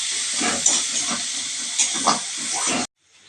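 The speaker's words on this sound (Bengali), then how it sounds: "ওই তেলেতে পেঁয়াজ কুচনো দিয়ে দেবো। পেঁয়াজগুলোকে হালকা ভেজে নেব।" Chopped onions lightly frying in oil in a home kitchen, an even, close sizzling hiss that runs for about three seconds and then cuts off abruptly.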